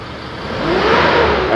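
An Isuzu D-Max diesel engine, just serviced with a cleaned fuel tank, new fuel filter and cleaned injectors, revs briefly under a light dab of throttle, its hum swelling to a steady, fairly close whir.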